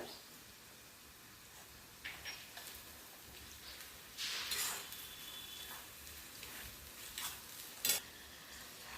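Sliced onion and chillies fry in hot oil in a pan, a soft steady sizzle close by with occasional louder spits and the clink and scrape of a spoon stirring.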